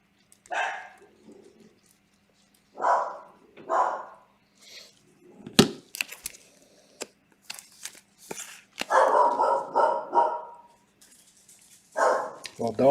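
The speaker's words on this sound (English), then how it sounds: "dog bark, that usually means big cards on the way" A dog barks in short bursts between voices talking during a baseball card case break, the barks close and moderately loud amid bits of card shuffling.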